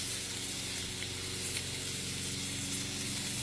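Butter hisses and sizzles steadily in a hot pan beside a freshly seared filet mignon, a continuous close spray-like crackle with no talk over it.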